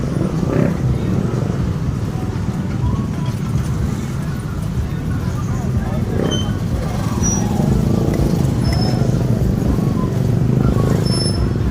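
Heavy road traffic in Balibago, Tagaytay, including trucks, fills the air with a loud, continuous engine rumble and road noise, heard from a jeepney in a long jam.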